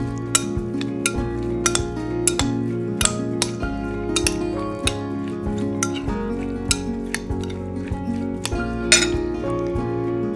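Pico de gallo stirred in a bowl, a quick run of close clinks and taps of a spoon against the dish, repeating unevenly throughout with no talk.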